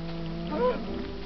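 A single Minecraft cow lets out a short, clear moo, rising and falling once over quiet background game sound.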